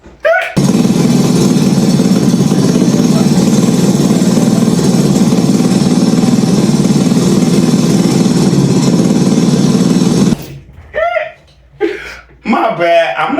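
A loud engine idles with its muffler knocked off, a steady raw rumble filling the first ten seconds close by, then cutting out as people laugh and talk.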